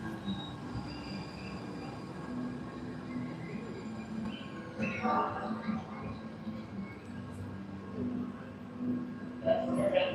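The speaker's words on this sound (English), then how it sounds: "This is a green line train." A Salt Lake City Green Line light rail train on the airport route rumbles steadily nearby, with wheel squeal and brighter bursts of rail noise rising around the middle and again near the end.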